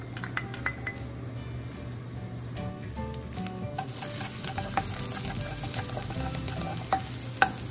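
Garlic sizzles in hot oil in a pan for beef picadillo, a steady close frying hiss broken by clinks and scrapes of a utensil against the pan.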